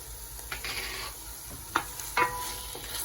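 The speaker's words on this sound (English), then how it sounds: "I'm going to stir those through." Chicken tikka masala ingredients stirred in a sizzling pan, a steady frying hiss with a few scraping strokes of the spoon standing out, close and without talk.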